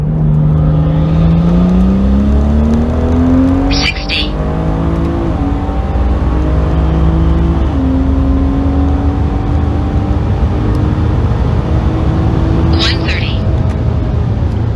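A BMW 340i with an upgraded turbo accelerates hard on a closed racetrack, the engine note climbing through the gears with brief shift breaks and a whooshing turbo release, loud and close.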